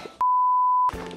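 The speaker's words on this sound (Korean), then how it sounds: "알람이 갑자기" A single steady electronic alarm beep, loud and clean, sounds for under a second, cutting through faint background room noise before and after, with no voices.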